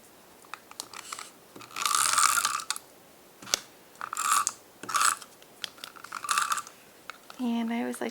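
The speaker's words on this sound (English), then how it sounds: "I'm just going to go ahead and put more tape all the way around" Tape pulled off a roll and pressed around the edges of an iris-folding greeting card, several loud ripping and crackling bursts in quick succession, close up, with a voice briefly at the end.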